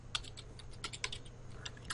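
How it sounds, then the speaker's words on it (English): Keys on a computer keyboard are tapped in quick, irregular clicks, close and fairly quiet, while a keyboard shortcut is entered during setup of a Cintiq HD 24 touch. "I'm just hitting those keys on the keyboard"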